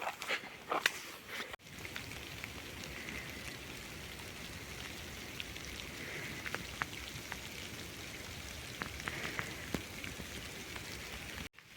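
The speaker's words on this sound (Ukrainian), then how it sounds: "Почався легенький дощ." Light rain falling in a forest while mushrooms are gathered, a soft continuous patter with scattered sharper drops tapping nearby leaves throughout.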